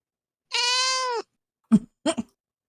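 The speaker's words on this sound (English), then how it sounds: "This very loud cat." A loud cat gives one long, drawn-out meow close up, followed after a pause by two shorter, clipped meows, with silence in between.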